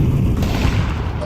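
A grenade explosion in Counter-Strike 2 gives a loud, close, booming burst that rumbles briefly and then fades.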